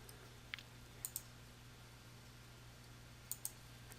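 Mouse clicks while moving through the user setup screens of QuickBooks Pro 2016, a few sharp, quiet clicks in pairs against a low steady hum, with no talking.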